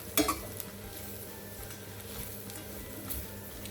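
A spoon stirs obbattu filling in a pan, giving a sharp clatter at the start followed by soft scraping and faint sizzling taps scattered through the rest.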